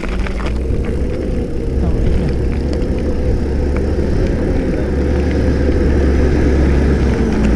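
A steady low tractor engine rumble drones close by throughout, a heavy motor running continuously with faint scattered noise above it.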